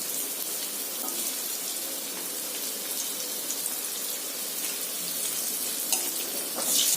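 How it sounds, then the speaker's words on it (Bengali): Potatoes fry in a pan of oil tempered with nigella seeds and asafoetida, giving a steady, close hiss of sizzling with a few brief crackles and no talking. "দিয়ে এটাকে ভালো করে ভাজবো"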